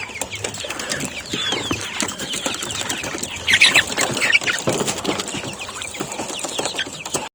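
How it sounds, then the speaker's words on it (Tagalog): Hungry chickens cluck and squawk in a small garden, a busy overlapping flock chatter with a burst of wing flapping midway, close and fairly loud. "Ayan mga manok. Nagutom sila guys."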